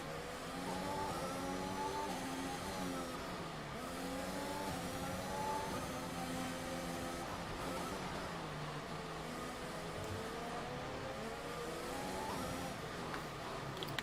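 Racing cars in a Monaco Grand Prix sim racing game drone and whine through the streets, engines rising and falling in pitch as they rev through gears, steady and continuous at moderate loudness.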